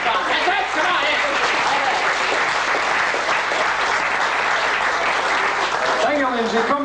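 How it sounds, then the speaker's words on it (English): Dense, sustained applause from a convention audience for a magician, loud and even throughout, a crowd of hands clapping without pause. "Give another round of applause for the biggest thing in magic"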